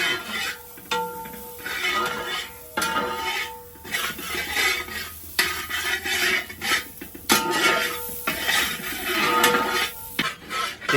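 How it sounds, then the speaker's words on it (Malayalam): Grated coconut is roasted in a pan, with a spatula scraping and stirring in repeated bursts, close and clear and with no voices. "തേങ്ങ ഇട്ട് കൊടുത്തു ഒന്ന് ചൂടാക്കി എടുക്കാം"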